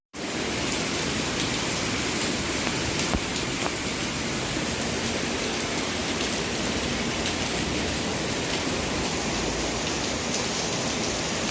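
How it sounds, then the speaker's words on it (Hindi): Heavy afternoon rain falls outside, a loud, dense and unbroken hiss of drops that starts abruptly and stays steady and close for the whole stretch, with no voices. "और बाहर काफ़ी अच्छी बारिश शुरू हो गई थी।"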